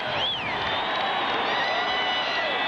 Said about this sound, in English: They are applauding for the Buffalo Bills, who go to 11-2 with the victory over the Jets.